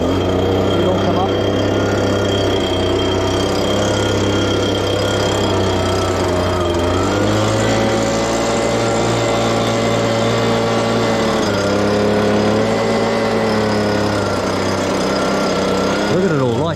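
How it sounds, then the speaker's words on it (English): An engine-powered blower runs loud and close without pause, droning steadily with slight pitch shifts as it works over dried corn outdoors, with a voice faintly heard beneath it. "now I'll get the blower"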